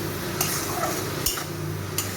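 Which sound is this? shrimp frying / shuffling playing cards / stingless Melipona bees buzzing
shrimp frying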